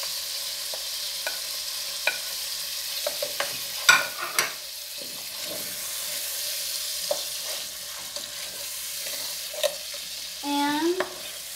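Sardine spaghetti sauce with salt frying and being stirred in a pan, a steady low sizzle with occasional sharp utensil taps and scrapes, close and fairly quiet, with no speech.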